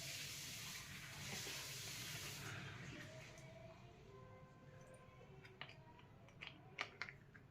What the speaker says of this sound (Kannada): ಕೈ ತೊಳ್ಕೊಂಡು